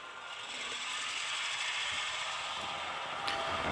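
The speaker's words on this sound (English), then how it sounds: "Here's some whine there with that, and that's the dynamic brake." An N scale Intermountain F7 model locomotive fitted with LokSound gives a steady, fairly quiet whirring dynamic brake whine, with faint mechanical clicks and a small rattle near the end.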